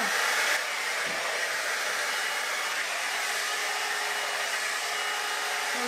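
Babyliss Hydro Fusion 4-in-1 hot air brush blowing steadily while brushing hair, a loud continuous airy whoosh with a constant motor tone, close up and uninterrupted, with no talking.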